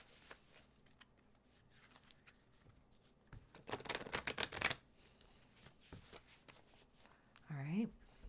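Tarot cards being shuffled by hand, a burst of quick riffling clicks in the middle, with softer card handling before and after and a brief voice near the end.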